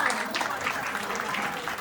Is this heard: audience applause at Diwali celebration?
yes